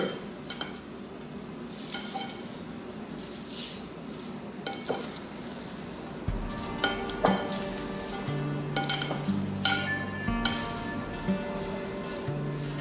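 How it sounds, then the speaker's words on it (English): Spicy shrimp salad with green onions tossed in a bowl: a run of clinks and scrapes from utensils against the dish, irregular and close, growing busier toward the end with no talking. "So we'll mix this together."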